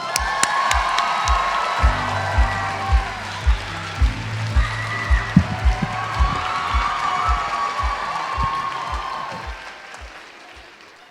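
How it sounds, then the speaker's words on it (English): A live audience at a forum on Asian Americans, Native Hawaiians and Pacific Islanders claps and cheers for Eric Nam, a steady roar of applause punctuated by rhythmic low thumps and a few shouts, then fading toward the end. "I thought you were excited cheering for me, but I realized Eric Nam was right behind me"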